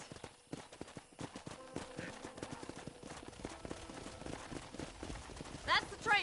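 Horse hooves trotting in Red Dead Redemption 2, a steady run of clip-clop beats with a rider urging the horse on, set within busy game ambience.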